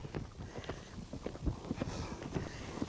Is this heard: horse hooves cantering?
yes